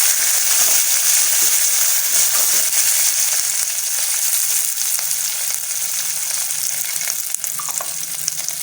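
Green chillies and dried red chillies sauté in hot oil with mustard seeds and curry leaves, a loud, continuous close sizzle with faint stirring scrapes and no talk.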